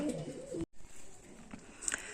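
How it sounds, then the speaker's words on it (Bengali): Pigeons, a pair of long-tailed chhapka birds, coo softly and intermittently as they are handled, a few close low coos with brief chirps and handling rustles in a quiet setting. "পায়রাগুলো আপনাকে ধরে দেখানো যাক"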